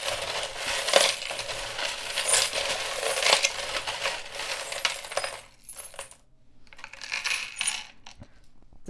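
Dense, continuous clattering of many small metal charms being shuffled together, loud for about five seconds, then a brief lull before softer rattling resumes.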